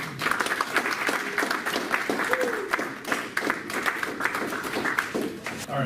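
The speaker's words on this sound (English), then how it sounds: "Please welcome them with a warm round of applause." Audience applause at a security-themed chapter meeting, a sustained wash of clapping across the whole stretch with faint voices murmuring underneath.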